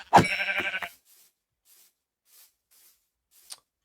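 A sheep bleats once in a video game, a loud wavering cry in the first second, followed by faint scattered game noises and a small click near the end.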